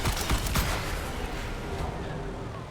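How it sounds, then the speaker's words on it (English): Loud, dense burst of blasts and rumbling debris in the vehicle-building game Trailmakers, a heavy explosion that starts sharp and rolls on as a continuous crackling roar, fading slightly over a few seconds. "That was a big explosion."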